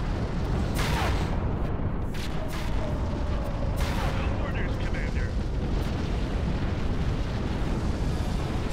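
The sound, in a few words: missiles and explosions in space battle, video game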